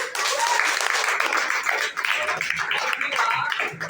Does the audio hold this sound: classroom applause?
yes